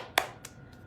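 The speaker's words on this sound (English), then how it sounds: "clapping the hands. Nice, clear, bright sound" One person claps their hands during a movement practice session, giving a sharp, bright clap followed by two softer, fainter claps in a quiet room.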